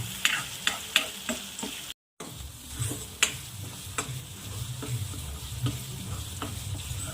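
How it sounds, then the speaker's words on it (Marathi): Masala paste for shev bhaji frying in hot oil, a steady close sizzle broken by regular scraping strokes of a spoon across the pan, with one brief dropout. "छान तेलामध्ये मसाला पकू द्यायचा आहे"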